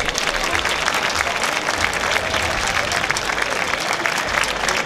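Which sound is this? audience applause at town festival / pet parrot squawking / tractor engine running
audience applause at town festival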